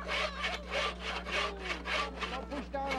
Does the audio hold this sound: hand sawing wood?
yes